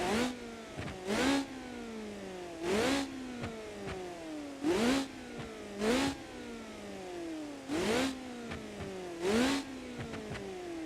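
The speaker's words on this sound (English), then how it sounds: "This car sounds like a supercar. No, it literally sounds like a supercar. See, listen to this engine sound." A supercar engine in the video game BeamNG revs repeatedly, each burst rising then dropping in pitch as gears shift, in a rhythmic pattern of about eight surges.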